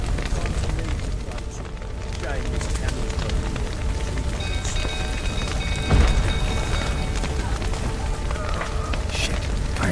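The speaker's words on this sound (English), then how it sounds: "Looks like rain." Rain falling in the game The Witcher 3, a steady close hiss of drops on surfaces with a low crackle and a brief thud midway, no talk.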